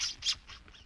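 A gull screaming as a radio drama sound effect, a few sharp bright squawks in quick succession, close and fairly loud, with no voices.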